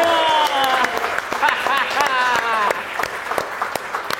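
Applause from a live audience at an Indonesian audio podcast taping rattles on as a thin crowd clapping, underneath a host's loud, excited talk.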